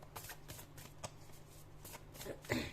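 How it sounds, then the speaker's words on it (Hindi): Tarot cards are shuffled and drawn by hand in quick papery riffles and slaps, several bursts in an irregular rhythm, close and fairly quiet, ending in a louder flurry. "सो मैं एक कार्ड और ले रही हूँ।"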